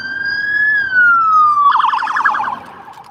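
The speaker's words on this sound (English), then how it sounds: "we got sirens coming up behind us" A police siren wails close behind a car cruising the Las Vegas Strip at night, first a long sliding tone and then a rapid warbling yelp, loud over road noise.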